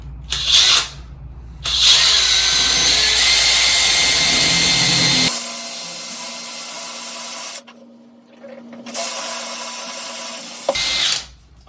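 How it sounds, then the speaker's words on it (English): A power drill whines steadily through two long bursts, with a brief pause and short starts between them, loud and close with no talking, while drilling a hole for a shower glass door installation. "And then we'll grab our drill and make that hole."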